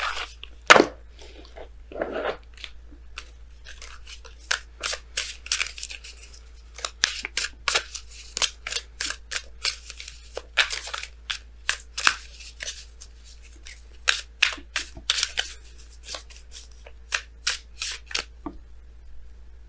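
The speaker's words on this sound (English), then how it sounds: "we're going to go ahead and pull you guys your Messenger Oracle cards" Messenger Oracle cards are shuffled by hand for a tarot reading in a long run of quick, crisp riffling bursts and soft flutters, close and fairly quiet, with no talking.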